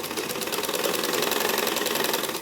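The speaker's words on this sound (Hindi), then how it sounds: "इसको हल्के हाथ से इस तरह से रखते हुए सिलाई लगानी है, खींचना नहीं है।" Sewing machine stitching fabric for a sleeveless kurta, a fast even mechanical rattle of needle strokes running continuously and close.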